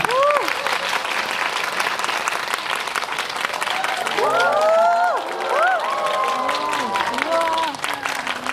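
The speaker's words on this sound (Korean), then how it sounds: "여러분들 큰 박수 부탁드립니다" A crowd at a live film talk event for Goodbye Single claps and cheers as director Kim Tae-gon and the actors come on stage; sustained, even applause runs throughout while a host's voice speaks over it.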